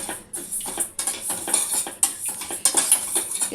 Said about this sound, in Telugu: ఇట్లా మంచిగా దీన్ని ఫ్రై చేసుకోవాలి